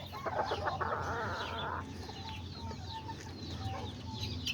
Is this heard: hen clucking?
yes